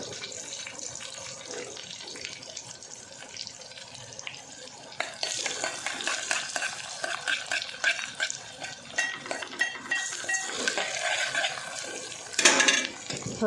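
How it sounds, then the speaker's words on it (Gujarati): Chili tempering (vaghar) sizzles in a pan in a home kitchen, a steady hiss that swells louder halfway through and carries scattered clinks of utensils, with no talking. "વઘાર કરી નાખ્યો છે, થોડુંક મરચું નાખી ગયો."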